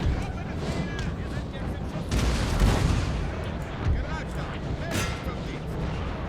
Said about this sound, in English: Oh, they're taking direct cannon fire